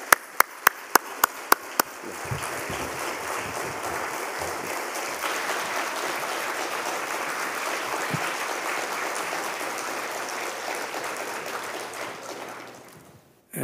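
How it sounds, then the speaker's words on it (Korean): A church congregation at a Friday service breaks into sustained applause welcoming a guest pastor, a steady wash of clapping lasting over ten seconds after a few sharp isolated claps, then tapering off. "우리 뜨거운 박수로 환영하겠습니다"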